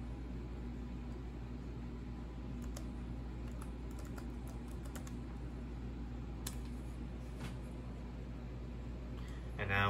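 Soft, faint keystrokes tap out a password on a computer keyboard in short irregular bursts over a low steady hum.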